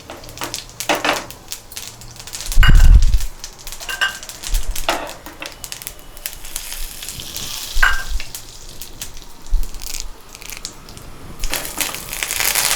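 Curry leaves and other ingredients hit hot oil for a tempering, giving loud close crackling and sizzling with sharp popping bursts that settle into a steady fry with occasional stirring.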